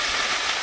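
Water poured into a pan of frying spices, tomato, ginger-garlic paste and cumin paste sends up a brief, loud burst of sizzling hiss.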